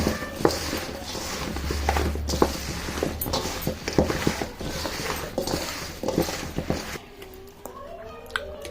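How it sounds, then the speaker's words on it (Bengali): Green chillies being stirred with hot mustard oil in a bowl for a pickle, wet squelching and patter with repeated clinks of a spoon against the dish, fairly close, before a voice takes over at the end. "ফুটানো সর্ষের তেলটা ভালো করে মিশিয়ে নেব লঙ্কার সাথে"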